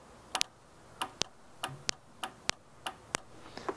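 The fuel cutoff solenoid on a VW Beetle carburettor clicks sharply about a dozen times at an uneven pace, each crisp click close and distinct over faint background hiss.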